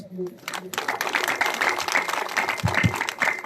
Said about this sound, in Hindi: तालियों की कंजूसी ना करें, तालियों की।